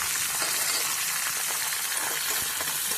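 Sliced onion and green chilli fry in hot oil with curry leaves, producing a dense, even, loud hiss of sizzling that holds steady throughout without any speech.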